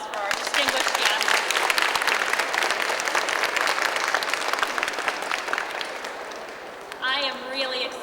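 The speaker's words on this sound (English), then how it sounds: "Can we have another round of applause for our distinguished guests?" A crowd at an elementary school recognition ceremony gives a loud, sustained round of applause that slowly thins and fades, then a voice speaks over the last claps.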